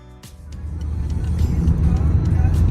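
Taxi cab driving from Cairo toward Giza, heard from inside as a steady low engine and road rumble that grows gradually louder, with faint background voices.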